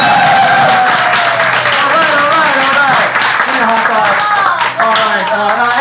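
An audience at an improv comedy show claps and cheers loudly and continuously, with people talking over the applause throughout.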